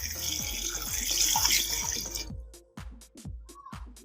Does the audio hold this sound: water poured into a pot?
yes